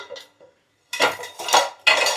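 Metal kitchen utensils and dishes clinking and clattering as they are handled in a home kitchen, a few faint taps followed by three louder bursts of rattling close by.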